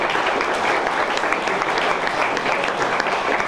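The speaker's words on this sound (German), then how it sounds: "auch nochmal Applaus bitte" An audience at a panel discussion on the NSA scandal applauding, dense continuous clapping from many hands, loud and even throughout.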